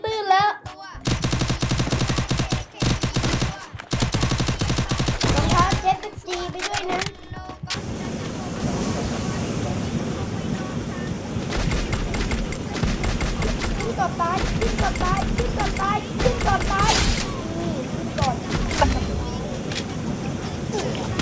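Tower gunfire in a video game, with dense bursts of rapid machine-gun-like shots that are loud and nearly continuous. They break off briefly before a sustained barrage, with battle noise and voices talking underneath.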